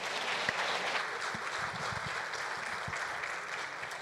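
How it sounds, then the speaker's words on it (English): A round of applause for panel members at a competition law and economics conference, steady dense clapping from an audience throughout. "Can you please give them a round of applause?"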